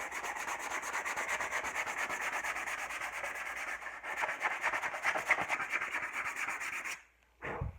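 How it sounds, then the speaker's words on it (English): Rhythmic scratchy rubbing of sandpaper on a burnt wooden axe handle, steady back-and-forth strokes close up, pausing briefly near the end. "now what I'm doing is sanding it all smooth"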